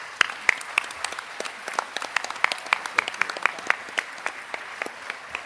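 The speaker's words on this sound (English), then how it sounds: "Let's give a warm round of applause to Irene Galtung" An audience at a peace award ceremony applauds with crisp, scattered claps that build into steady clapping and continue for several seconds.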